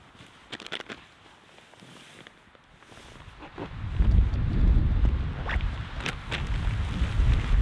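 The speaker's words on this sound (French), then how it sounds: "Le vent se lève" Wind rises on a mountain summit and buffets the microphone, starting light with a few rustles and then building into strong, roaring gusts that continue to the end.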